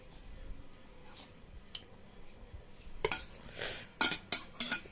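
A small child eating alone scrapes and clinks a spoon against a bowl in a few quick bursts near the end, loud and close, after a quiet stretch with faint background noise.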